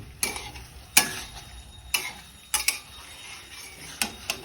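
A spatula stirs and scrapes through a pan of braising fish curry with vegetable stalks and potatoes, giving a handful of sharp, irregular scraping strokes close by, with no talking.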